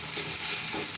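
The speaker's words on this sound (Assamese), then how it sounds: "এতিয়া দিম আদা নহৰু থেতেলাই থৈছোঁ, সেইখিনি দি দিছোঁ। আৰু এইখিনি মই ভাজি ল'ম।" Crushed ginger and garlic frying in a pan, a steady close hiss of sizzling oil filling the brief moment without any talk.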